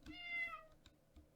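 A cat lets out a single drawn-out meow, close and clear, followed by a few soft knocks and quieter background sounds.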